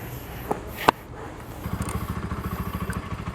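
A motorcycle ridden along a 16 km route toward Puchong, with a steady pulsing engine drone building from low to moderate loudness after a couple of sharp knocks and a clack near the start.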